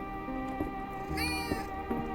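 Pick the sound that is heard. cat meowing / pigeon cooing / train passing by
cat meowing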